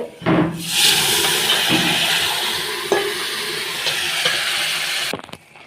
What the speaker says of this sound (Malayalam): നമ്മൾ ഈ താളിച്ചയിലോട്ട് കൂർക്കൻ ചെമ്മീൻ ഇട്ടിട്ടുണ്ട്